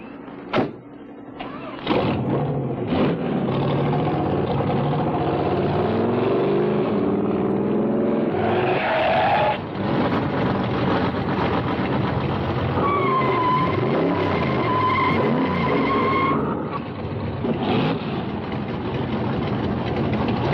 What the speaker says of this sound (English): I love the sound of that car